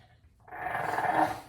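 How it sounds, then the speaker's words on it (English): A bulldog growls and snarls up close in a low, rumbling stretch that swells after a brief quiet start and holds steady to the end. "I had a bulldog just snarling at me the entire time"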